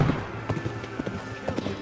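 Horse hooves clip-clopping in a CSGO Wild West co-op mod, a steady rhythmic beat of thuds about every half second over a background hum, fairly close.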